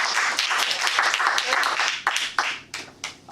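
Audience applause at a Toastmasters club meeting: a dense patter of many hands clapping together, steady at first, then thinning into a few scattered, separate claps near the end.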